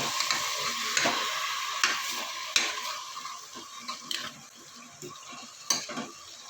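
Jackfruit pieces are stirred and fried in a pan while making sambar, with a steady close sizzle and repeated scraping clinks of a spoon against the pan every second or so, no talking.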